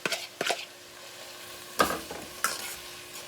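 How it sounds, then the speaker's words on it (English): Peppers sauté in avocado oil for a meatless chili, a quiet sizzle punctuated by a few sharp scraping stirs of a utensil against the pan. "So I'm going to saute this"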